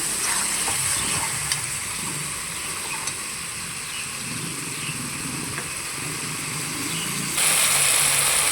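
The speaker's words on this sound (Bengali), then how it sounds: "আলু আর ছলা কিছু একসঙ্গে মিশিয়ে নেব" Potatoes and shola kochu are stirred together in a hot pan, giving a steady close sizzle with scraping spatula strokes throughout and a brighter hiss near the end.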